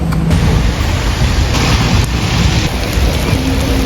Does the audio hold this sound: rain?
yes